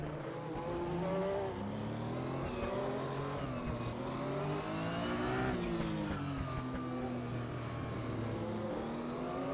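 A Porsche 911 GT1 racing car in Assetto Corsa revs hard on track at Silverstone, its engine note climbing and dropping through gear changes in a loud, sustained, close-up howl.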